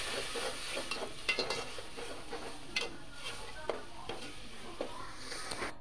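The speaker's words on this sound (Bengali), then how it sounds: "মশলাগুলো সুন্দরভাবে আমি নেড়ে চেড়ে মেখে নিচ্ছি।" Spice pastes of garlic, cumin, coriander and chilli being stirred and fried in a pan, a soft continuous sizzle broken by light spoon scrapes and taps, fairly quiet with no talk.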